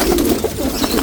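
Pigeons coo in a large loft, close and clear, with soft repeated throaty calls layered over one another in a short burst.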